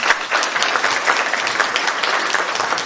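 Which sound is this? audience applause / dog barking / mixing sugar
audience applause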